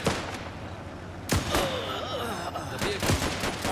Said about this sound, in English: The Reds are shooting at the convoy.